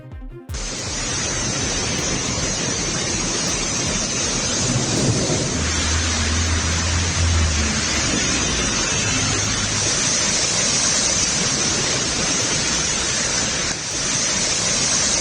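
Heavy monsoon rain pouring down in Delhi during a red-alert downpour, a dense, loud, unbroken hiss of rainfall with a low rumble partway through, steady throughout and without talk.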